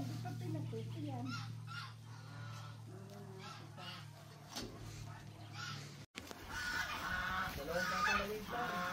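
Geese honking repeatedly nearby on a livestock farm at feeding time, loud nasal calls overlapping with people talking in the background.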